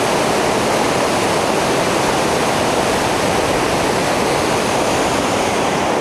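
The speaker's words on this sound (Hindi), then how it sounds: "मैं आपको ज़रा आगे से इस नदी का नज़ारा करवाता हूँ।" A glacial meltwater river rushes between the high mountains of Gilgit, filling the air with a loud, dense, unbroken roar of churning water that stays steady throughout, close by with no voices.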